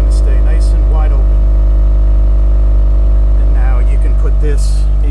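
A 2022 Genesis G70 runs with its exhaust valves held open, giving a loud, steady, deep idle drone with a constant low hum, with faint talk audible over it.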